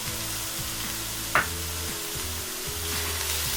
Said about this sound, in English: I've got half a chopped red pepper, half a chopped green pepper.